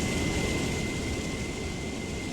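Steady loud roar of a jet aircraft engine in a flight simulation game with carrier landing and air-to-air refueling practice, a continuous broadband rush with a faint high whine running through it and no talk.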